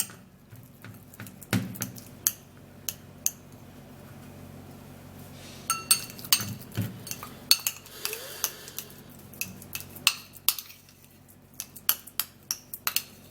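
A fork mashes avocado flesh in a bowl, making irregular sharp clinks and taps of metal against the bowl, scattered then clustering in quick bursts, close and moderately loud with no talking.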